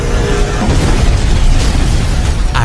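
Loud, dense rumbling blast from a recap of a horror film about a psychopath whose house burns, a sustained roar of noise filling the clip with a fresh burst near the end.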